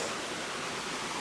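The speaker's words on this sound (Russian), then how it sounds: "что у нас тут ручей вон бежит" A mountain stream runs past a car campsite in Crimea, a steady, even broadband rush of water with no other sounds on top.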